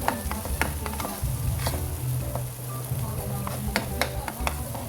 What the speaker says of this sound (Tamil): நல்லா வணக்கிட்டுருக்கோம் பத்து வாசம் ஓரளவுக்கு போயிட்டுருக்கோம்